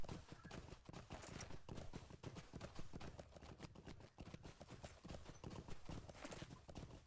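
Horse hooves clip-clop at a steady running rhythm while riding through Blackroot Vale in the Lord of the Rings Online game, close and continuous, with faint game ambience beneath.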